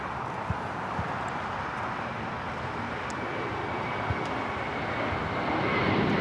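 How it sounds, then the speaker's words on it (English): A JetBlue Airbus A321 airliner taking off at LAX, a steady broad jet-engine roar heard from a distance that swells slightly toward the end, with no talking. "This is JetBlue Flight 100 taking off to Fort Lauderdale on the A321"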